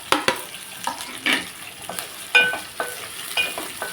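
Chopped carrot stirred into frying upma in a pan, a light sizzle under repeated scraping spoon strokes that come in an uneven rhythm, close by, with no voices.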